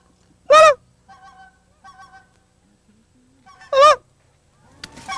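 Geese flying in toward decoys give two loud, close honks a few seconds apart, with fainter calls from more distant birds in between and soft rustling at the end.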